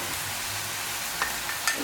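Green chillies and small shallots fry in a pan for a Kerala-style country chicken curry, a faint, steady sizzle with a couple of light stirring clinks near the end.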